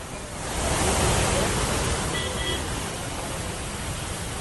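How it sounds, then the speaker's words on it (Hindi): Floodwater rushes hard beneath a damaged bridge near Karli Gad village at Sahastradhara, Dehradun, a loud, steady roar of turbulent water with no pause and no voices over it. "आप पानी का वेग देख रहे हैं कि अभी तक ये वेग जो है कम नहीं हो पा रहा है।"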